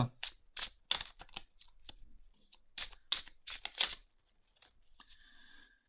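Tarot cards being shuffled and drawn for a reading, heard as a series of close, crisp riffling and flicking bursts with short pauses between them, then a soft sliding rustle at the end.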